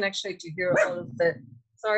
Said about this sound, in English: that's my dog just starting to bark.